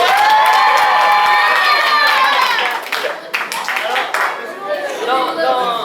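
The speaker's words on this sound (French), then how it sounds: "Je voudrais qu'on applaudisse." An audience at a school gathering claps and cheers loudly and steadily, with excited shouts and children's voices over dense crowd noise that dips briefly midway before swelling again.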